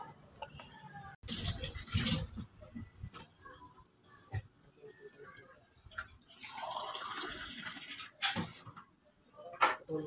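Bitter gourd (ampalaya) pieces, seeds removed, being put into a bowl of water to draw out bitterness, giving bursts of splashing and dripping with small knocks between, close and moderately loud.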